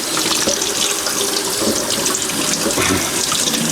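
Water runs steadily from a tap into a sink, splashing over vegetables being rinsed for soup, with faint clunks and rustling from handling, close and continuous.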